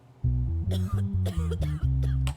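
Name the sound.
people coughing in a courtroom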